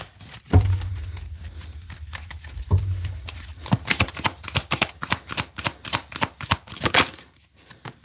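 Tarot cards being shuffled by hand, a dense run of quick crisp riffling flicks and slaps, close and fairly loud, with a couple of soft thumps early on and no talking.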